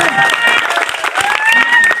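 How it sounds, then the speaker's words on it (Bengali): A crowd at an outdoor football prize ceremony on a school ground breaks into brief, uneven clapping and cheering, loud and close, mixed with overlapping voices. "সবাই হাততালি, সবাই হাততালি দেবেন"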